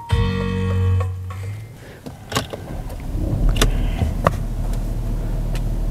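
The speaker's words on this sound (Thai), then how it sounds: "เดี๋ยวเราสตาร์ทรถให้ดูเนาะ" A 2011 Porsche Cayenne diesel cranks over with a whirring starter, catches, and settles into a low steady idle, punctuated by a few sharp clicks and ticks from the cabin.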